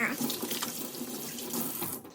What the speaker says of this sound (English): Now you're gonna turn on this water, make sure that it's boiling hot